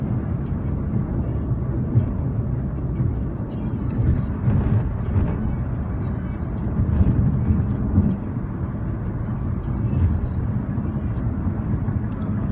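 Road traffic passes with a low, rumbling roar that swells and fades as vehicles go by, loudest around the middle. Faint talk sits underneath.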